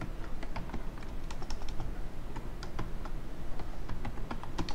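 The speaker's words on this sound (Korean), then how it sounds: "Shift F2 키를 눌러주면은" Keys clatter on a computer keyboard as Shift F2 is pressed during spreadsheet work, giving a quick run of close, crisp clicks and taps over a low steady background hum, with no one speaking.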